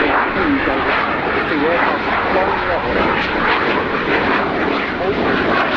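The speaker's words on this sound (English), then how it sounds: "Stephanov, once again going into a 30 knot headwind, so his speed over the ground is about 80 knots" A Swiss Air Force F/A-18C jet flying a display at RIAT air show, a loud, sustained roaring engine noise that fills the air, with a commentator talking over it.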